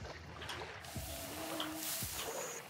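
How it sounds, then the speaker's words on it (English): Water sloshes and splashes in a steady wash in the video game Hunt: Showdown, with a few louder splashes standing out against a continuous watery background. "I'm making a lot of noise in the water."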